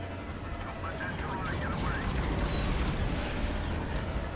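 Star Wars Battlefront 2 Galactic Conquest battle on Xbox One: a steady, dense wash of blaster fire and explosive rumble that never lets up, with indistinct voices mixed into the din.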